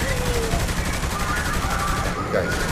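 Dense gunfire crackles without letup in a firefight in the video game Saints Row The Third, loud and continuous, with a voice talking over it.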